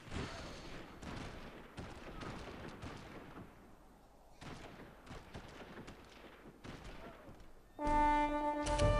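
Artillery cannon fire in the strategy game Civilization 4, heard as a run of dense, booming volleys with crackling bursts over several seconds, ending in a louder harsh passage with bright tonal streaks.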